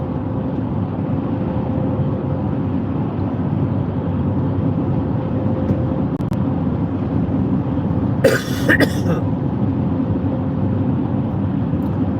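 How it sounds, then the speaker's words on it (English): A steady low rumble runs throughout, broken near the end by a quick pair of sharp, harsh coughs. "I don't mean to keep coughing in you guys' ears."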